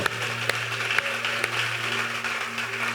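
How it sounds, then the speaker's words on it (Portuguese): Congregation applauding at a church service, a steady wash of clapping from many hands with a low hum underneath, moderately loud and sustained. "Vamos aplaudir ao Senhor"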